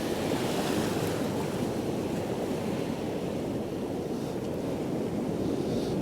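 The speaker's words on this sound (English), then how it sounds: "There are waves out there, which are probably 80, 100 yards out, really turning over for some reason." Ocean waves turn over and break along the shore at Happisburgh beneath the cliffs, a steady broad wash of surf mixed with wind buffeting the microphone, continuous and unbroken with no voices.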